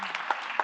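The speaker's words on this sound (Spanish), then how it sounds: "darle un aplauso" Brief burst of audience applause at a Spanish talk event on climate and eco-anxiety, a short patter of clapping with a couple of sharper claps standing out.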